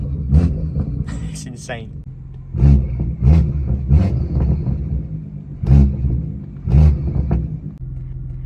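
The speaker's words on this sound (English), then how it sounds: "Listen to the grunt that this engine has. The car, this engine has got so much grunt, it kind of rattles the car." A BMW M-series coupe engine rumbles and revs in repeated deep bursts that rattle the car, loud and close, while someone talks over it between pulses.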